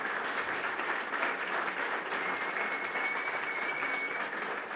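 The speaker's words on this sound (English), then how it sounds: "big round of applause for Andreas." A crowd at a startup talk gives a big round of applause for the speaker, a dense, sustained wash of clapping that fills the whole stretch at an even level.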